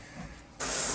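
An airbrush with its needle pulled back releases paint in a steady, close hiss that grows suddenly louder partway through, laid over a fainter airy hiss before it.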